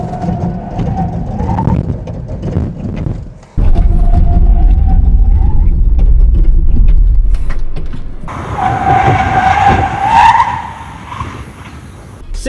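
A Chevrolet Equinox EV brakes hard from 60 mph, tires skidding and squealing in several loud bursts with road and wind noise between them.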